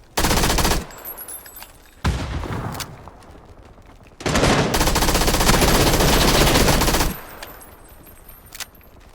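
Gunfire in the video game PUBG: loud bursts of rapid automatic fire, first short, then a longer sustained burst several seconds long, separated by near-silent gaps.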